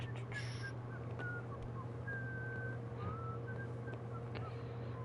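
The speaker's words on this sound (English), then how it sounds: "Who the fuck is whistling?" Whistling in the medieval video game Kingdom Come: Deliverance: a series of thin, wavering melodic whistled notes drifts at a moderate distance over a constant low ambient hum, with no talk.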